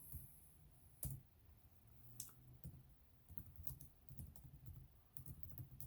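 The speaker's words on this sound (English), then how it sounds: "hear me typing?" Someone types on a computer keyboard nearby, irregular bursts of soft clicks with a few louder key strikes and short pauses between runs.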